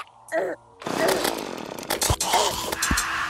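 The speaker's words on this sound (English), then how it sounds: "Are you using your chainsaw?" A buzzing, rasping chainsaw in the video game Terraria grinds for a few seconds, broken by short thuds and mixed with a voice talking.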